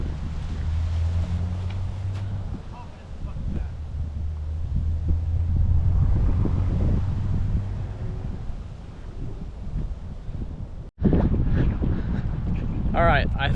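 Strong wind buffets the microphone on a palm-lined disc golf course, a loud, continuous low rumble with gusty swells and one brief dropout before the roar resumes.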